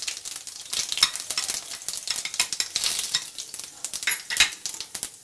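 Cumin seeds and a pinch of asafoetida crackle and sizzle in hot oil, made ready for palak paneer, with a steady close frying hiss broken by quick pops and stirring scrapes.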